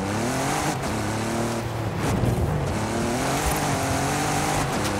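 A Jeep Gladiator's engine drones and revs steadily while driving off-road in the Forza Horizon 5 racing game, with a continuous loud motor hum and shifting pitch throughout.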